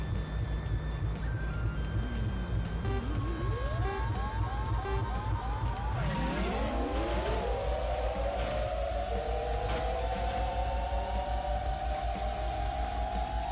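Toy-like race car engines in the video game Choro Q HG on the New Jungle Short track: a steady low drone and short revs, then several engines climb together in rising whines and settle into a loud, sustained high-pitched hum, with no talking.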